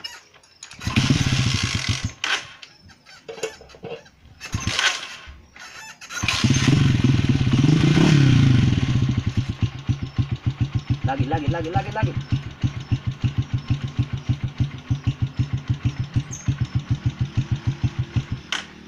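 A motorcycle with an electrical fault cranks and sputters, then catches and idles with a rapid, uneven putter that pulses steadily to the end, loud and close, with someone talking over it at the start.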